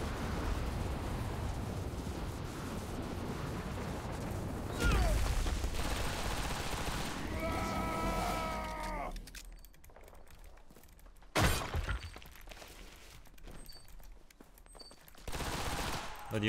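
A Mauser C96 Mod.712 pistol fires in CRSED video game combat as loud rapid bursts with shattering impacts, then drops away to quieter stretches broken by sudden sharp shots and game effects.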